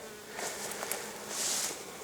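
Close, steady buzzing of bees flying about, rising and falling slightly as insects pass near, with no voices.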